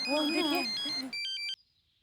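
Someone talks briefly, then a short electronic ringtone trills in quick repeating pulses and stops abruptly, leaving near silence.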